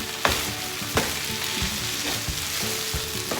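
Lao-style fried noodles (kua mee) fry in a hot pan with a steady close sizzle. A few sharp knocks and scrapes from a stirring utensil cut through it at intervals, with no talking.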